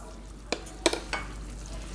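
A spoon stirs crawfish in a garlic butter sauce with added sugar, several distinct metallic clinks and scrapes against the pan over a low background hum, nearby and without talking.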